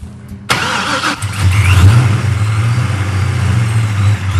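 A 1,000 hp hot rod engine cranks and then catches abruptly. It settles into a loud, rumbling, lumpy idle in a garage, heard up close with no talking.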